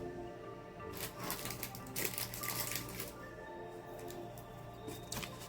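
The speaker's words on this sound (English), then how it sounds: "now I'm going to cut out some of these leaves" Scissors cut paper leaves out for a mixed media tag, a close run of crisp snips and paper rustles in quick bursts, with a faint steady hum underneath.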